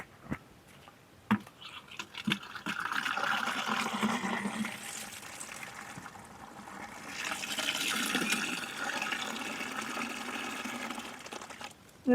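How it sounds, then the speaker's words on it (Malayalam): Water pours steadily onto plant soil for several seconds, a continuous splashing gush with a few knocks and clicks at the start and end. "ഇതേപോലെ ആദ്യം വെള്ളം നല്ലപോലെ ഒഴിക്കണം"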